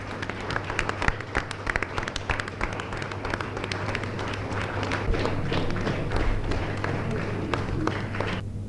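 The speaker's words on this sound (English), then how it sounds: "Keep the claps going, audience." Applause from an audience at a youth parliament competition inauguration, a dense steady patter of many hands clapping throughout, with a low constant hum underneath.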